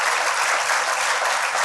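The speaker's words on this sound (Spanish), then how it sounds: "Así que, por favor, otro aplauso a todos." Audience applause for a panel of participants at a conference session, a steady dense clapping that fills the whole short stretch at even loudness with no voices.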